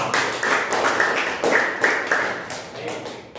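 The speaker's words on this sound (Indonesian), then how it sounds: "Silakan beri tepuk tangan untuk kelompok 3" Small classroom group clapping for a presenting group, a scattered, uneven patter of hands with irregular bursts, fairly close, over soft background voices.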